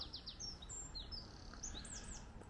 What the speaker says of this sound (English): Is that a robin or a blackbird or something?